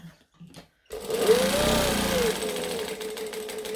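A sewing machine runs a steady, continuous stitch along a straight edge of fabric, close and fairly loud after a brief quiet start with faint handling sounds.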